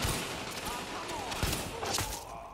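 M1 rifle gunfire in the video game The Division, rapid shots crackling over a dense, busy background with people talking.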